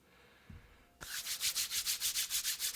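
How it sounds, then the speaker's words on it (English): Palms rub together briskly, spreading a small puddle of beard oil, in a close, loud, steady back-and-forth rhythm of about a dozen strokes after a brief quiet pause. "Rub my hands together."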